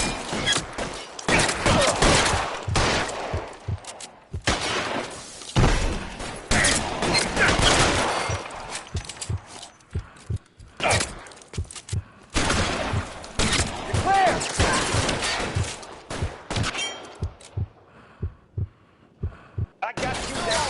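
Covering gunfire in a PS4 shooter rattles out in repeated loud bursts and volleys with short gaps between them, mixed with game voices.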